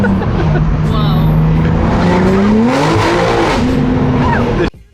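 A Corvette Z06 on Mickey Thompson tires accelerates hard, its engine note climbing loud and close through rising gears before cutting off abruptly at the end.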